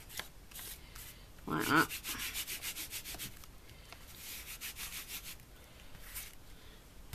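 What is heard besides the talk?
applying clear embossing ink over a craft plaque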